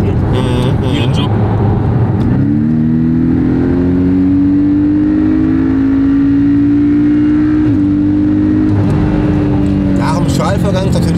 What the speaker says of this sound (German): Wir haben es gerade mal geschaltet bei Ende des Drehzahlbandes von 3 auf 4.